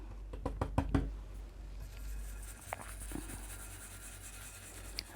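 A stencil brush buffing paint lightly into an ombré stencil design, giving a soft continuous rubbing hiss after a quick series of sharp taps at the start, close and fairly quiet.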